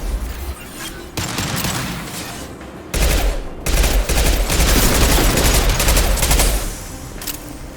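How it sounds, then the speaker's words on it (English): Heavy gunfire and impact shots in Mass Effect 2, loud sustained bursts with booming low thuds, broken by short pauses and then picking up again. "Firing an impact shot!"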